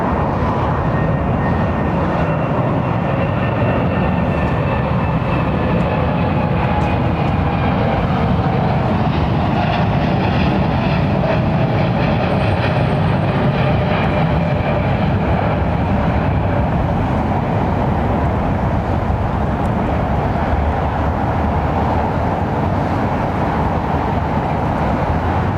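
A British Airways Boeing 787 Dreamliner departing Heathrow, a loud, sustained broadband jet roar that stays powerful and steady throughout, with slowly shifting engine whine.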